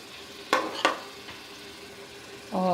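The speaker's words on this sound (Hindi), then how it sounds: "इसी ऑयल में हम चिकन को फ्राई करेंगे" Chicken frying in oil in a pan while making highway-style chicken karahi, with a low steady sizzle, two sharp stirring clatters early on and a louder burst of sizzling near the end.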